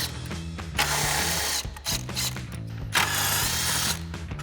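A ratchet fitted with a 10mm socket backs out grill screws on a 2019-2024 RAM 2500, giving two bursts of rapid mechanical clicking close up, each lasting about a second, with brief pauses between.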